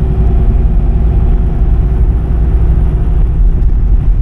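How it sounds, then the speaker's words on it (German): Rough-running 2.0 DTI diesel in an old Opel Zafira A driving along a country road, a loud, steady low rumble and drone heard from inside the cabin with no talk. "Aber ihr hört was, also den Motor, auch wenn das so ein rau laufender Diesel ist aus vergangenen Zeiten"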